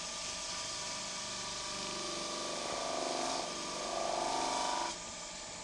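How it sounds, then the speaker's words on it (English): A wood lathe spins a sapele bowl with a steady whirring hum and a faint rubbing rasp that rises in two brief swells before easing off, fairly quiet and with no voices. "Then I'm going to spin the lathe and just spread that around a bit."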